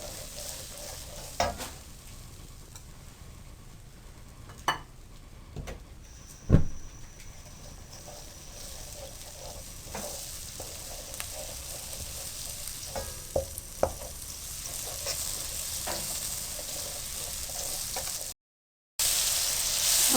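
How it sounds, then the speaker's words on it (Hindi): Spices fry in a pan for Punjabi dal chana, a constant close sizzle with scattered scrapes and taps of a stirring spoon and a brief dropout near the end. "और आप मसाले को भूनें।"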